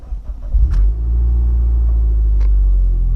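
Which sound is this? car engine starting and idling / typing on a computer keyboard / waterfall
car engine starting and idling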